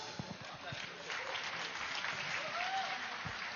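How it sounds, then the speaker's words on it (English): Steady applause from a crowd fills the whole stretch, moderately distant, with a voice speaking faintly underneath. "So let us also give a huge round of applause for the cooks."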